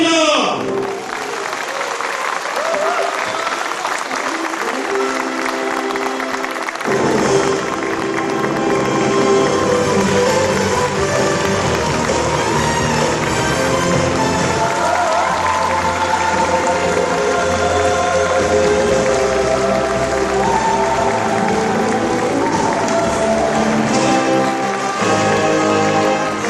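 A crowd at a Democratic United Party joint speech rally for the Daejeon and Chungnam leadership election breaks into loud, sustained applause that swells after a few seconds and continues to the end, with an amplified voice over it.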